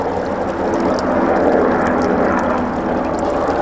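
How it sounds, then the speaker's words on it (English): A steady, broad rumble of a Black Hawk helicopter passing overhead, fairly loud and continuous throughout, with no talking. "we've got yet another helicopter flying over."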